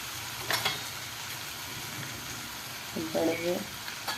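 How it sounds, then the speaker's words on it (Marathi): Onion and tomato sautéing in a pan for a Maharashtrian moong usal, a soft steady sizzle running throughout with a couple of brief clinks of a spoon against the pan. "कांदा टॅमॅटो चांगला परतला"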